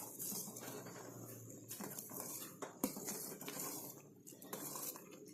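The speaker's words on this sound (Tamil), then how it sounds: "ஒரு வாட்டி நல்லா கலந்து விட்டுக்கலாம்." A spoon scrapes and clinks around inside a metal pot of jaggery wine in quick, irregular strokes, close and fairly quiet.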